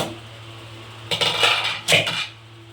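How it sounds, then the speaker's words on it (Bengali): A metal plate used as a lid is lifted off a pan of semolina barfi, giving two close clanking rattles of metal on metal over a low steady hum. "এবার ঢাকাটা খুলে দেখি কতদূর হলো"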